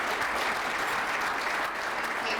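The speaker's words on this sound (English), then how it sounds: "Send another round of applause" A steady round of applause from a breakfast audience at a Junior Achievement Starmakers event, even and sustained clapping from many hands throughout with no talking.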